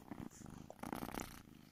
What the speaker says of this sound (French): Je sais pas si vous l'entendrez ronronner, il ronronne fort.